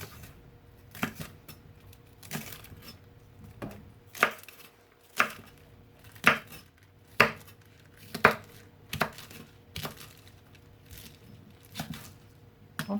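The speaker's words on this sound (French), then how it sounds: "on va couper les choux chinois" Knife chopping Chinese cabbage on a board, about a dozen sharp, evenly spaced cuts roughly once a second, close and clear with no talk.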